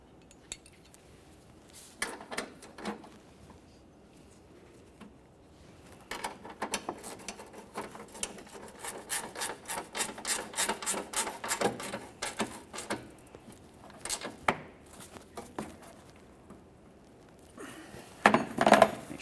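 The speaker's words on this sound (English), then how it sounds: "I'll tighten the nut along the back side" Wrench tightening the nut on a front bumper brace bolt on a 1999-2006 Chevrolet Silverado 1500, heard as intermittent metallic clicks and rattling bursts up close, quiet at first and busier toward the end.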